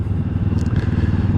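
A QJ Motor SRT 700 SX motorcycle from 2025 idles along at low speed, its engine a steady close throbbing rumble with faint scraping clatter on top.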